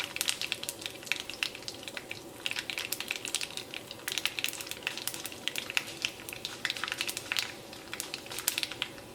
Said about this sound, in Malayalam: ഉണക്കമുളകും ഇതിനകത്ത് കിടന്നിട്ട് ഒന്ന് നന്നായിട്ട് മൊരിയണം.